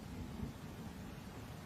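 Heavy rain pours in a dense, steady hiss with low rumbling thunder rolling underneath, loud and continuous throughout.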